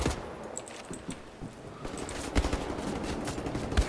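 Enemy gunfire in Wolfenstein: The New Order, with scattered rapid shots and bursts cracking over a busy, noisy firefight at moderate distance.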